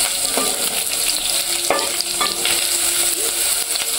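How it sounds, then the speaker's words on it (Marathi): Garlic tempering crackles and sizzles loudly in hot oil for a wild vegetable dish, a continuous close-up frying hiss with a few sharp pops and spoon scrapes scattered through it. "लसणाची फोडणी एकदम जबरदस्त"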